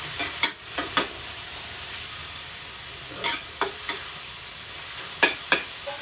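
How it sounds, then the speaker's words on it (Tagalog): Scrambled eggs frying in a pan for breakfast, a steady broad sizzle running throughout with occasional sharp scrapes and clicks of stirring, close and alone with no talk. "magluluto na ako ng almusal"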